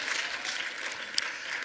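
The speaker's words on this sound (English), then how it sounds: "So can we get a round of applause for that?" Audience applause in a church, a dense, steady patter of many hands clapping at moderate distance, heard alone without talk.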